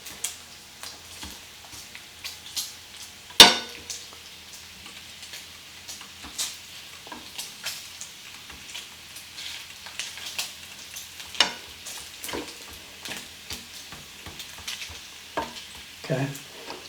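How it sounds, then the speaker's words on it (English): Bacon frying crisp on an electric countertop burner, a faint, low sizzle with scattered pops and ticks and one sharp clank, heard alone and fairly quiet. "I think that bacon is just about done. Maybe another minute or two. We'll make sure it's good and crispy."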